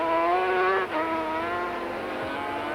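Honda 500cc Grand Prix racing motorcycles at the 1987 Portuguese Grand Prix: loud, high-pitched engine wail held at full throttle, dipping briefly in pitch as gears change, then droning on steadily.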